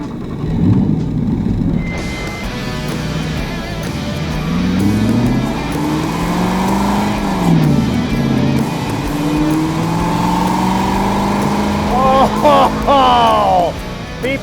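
A 2016 Aston Martin V8 Vantage GT Roadster engine drones loud and steady on the road, rising and falling through the gears, with a few sharp revving bursts near the end.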